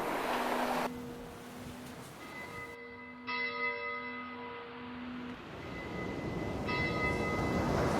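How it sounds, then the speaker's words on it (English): Church bells ring out in a layered peal, their sustained tones overlapping and changing pitch, with a steady wash of noise like wind or surf beneath. "the church bells were ringing"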